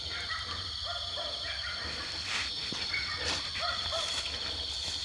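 A dog barks repeatedly at some distance near an old house on a hill, in short irregular bursts over a constant chorus of crickets and insects.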